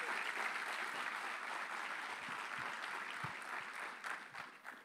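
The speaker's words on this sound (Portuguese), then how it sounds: "Un aplauso al Señor." A church congregation applauds together, steady dense clapping filling the space at an even level before thinning slightly toward the end.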